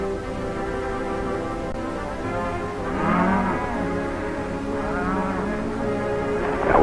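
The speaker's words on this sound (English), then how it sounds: "That's some of our cattle down there." Cattle on a western range lowing over a steady outdoor backdrop, with a few drawn-out moos rising around the middle and again near the end, set among long sustained tonal layers.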